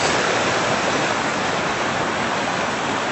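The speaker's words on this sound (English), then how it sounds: "This is our creek, Chattaway Creek," Chattaway Creek, a backyard creek with fish and ducks, flowing steadily as a dense, even rushing wash of water, loud and close with no other sounds.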